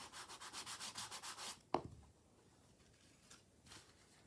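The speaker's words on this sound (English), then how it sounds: "I can grab my bone folder, give that a nice burnishing." A bone folder burnishes glued paper in a run of quick, even back-and-forth rubbing strokes, close and soft, then a single sharper scrape followed by a couple of faint, isolated rubs.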